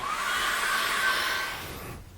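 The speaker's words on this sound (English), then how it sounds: "I'm going to dry that off with a hairdryer" Hair dryer blowing on wet acrylic paint on a canvas, a steady close whooshing whir that fades down near the end, with no talking.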